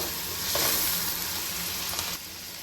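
Arvi stirred in a hot pan with turmeric and crushed chilli, a continuous loud sizzle with brief stirring swells, close and without voices.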